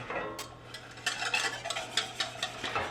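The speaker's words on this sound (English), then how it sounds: "Now, all I have to do is I'm stirring this." Cream being stirred into a white sauce in a pan, heard as soft, irregular scraping and light clinks of a utensil against the pan, fairly quiet, with a steady low hum underneath and no talking.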